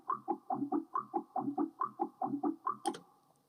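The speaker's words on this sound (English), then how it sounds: "we're gonna be learning how to make liquid basses" A liquid riddim bass synth playing a bouncy, evenly pulsed pattern of short wobbling notes, about a dozen hits in a steady rhythm, moderately quiet and alone, ending with a brief bright click and a fading tail.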